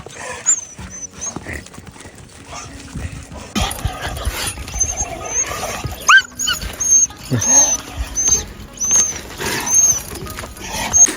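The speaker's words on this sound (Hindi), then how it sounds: "अब देखो आ गए वो कुत्ते" Several dogs outdoors in the mountains, including a young puppy and a Bhotia dog, bark and whimper in repeated bursts at close range, with occasional voices mixed in.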